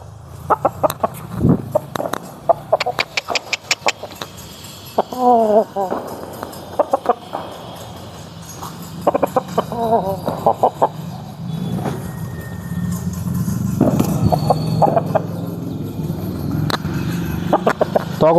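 A big double-body Pala Abrash rooster clucks and calls in repeated bursts at close range, with other fowl sounds and someone talking at intervals.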